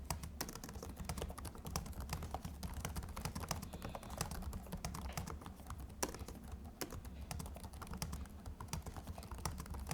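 Typing on an Illegear Onyx V laptop keyboard, a steady stream of close, dense key clicks running throughout with no voices.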